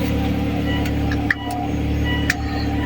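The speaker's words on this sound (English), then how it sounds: "we started my vehicle, it is on." A hybrid car's petrol engine idles nearby with a steady low hum, a couple of faint ticks and clicks standing out over the drone.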